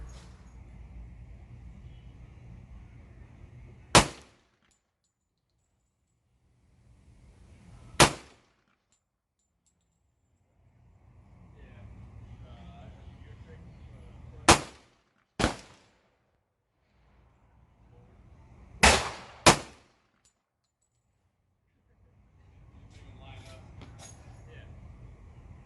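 Handgun shots at an outdoor shooting range, five sharp loud cracks spaced irregularly over several seconds, two fired in quick succession, with someone talking softly between shots.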